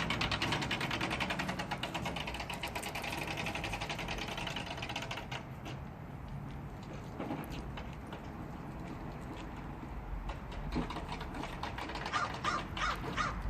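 Crow-like cawing calls from a bird in a backyard, fairly faint and distant, repeated over a steady outdoor background hiss with no talk.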